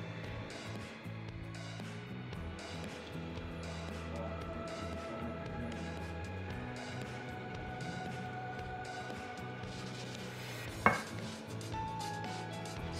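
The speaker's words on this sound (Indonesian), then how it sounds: "Aduk lagi hingga tercampur rata." Caramel sponge cake batter being stirred with dry ingredients in a bowl, a quiet steady scraping and swishing texture throughout with a single sharp clink of a utensil against the bowl near the end.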